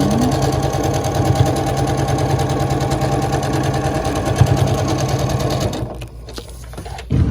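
A sewing machine stitches quilt block pieces, whirring in a steady, close, rapid rhythm that stops abruptly near the end, leaving brief quiet handling sounds.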